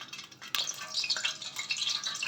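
Oil heats in a kadai before chicken goes in to fry, a soft steady sizzle with faint crackles running for a couple of seconds and one brief clink of metal near the start.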